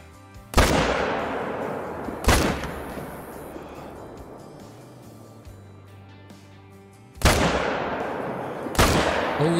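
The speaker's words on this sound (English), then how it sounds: "Shot fired." Four loud rifle shots ring out in a hunting game set in the wild, each a sharp crack with a long decaying echo, spaced irregularly with quiet ambient wilderness between.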